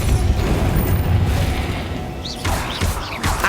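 In Hogwarts Legacy, the Depulso spell goes off with a forceful blast and crashing impact, followed by fainter swooping whooshes near the end.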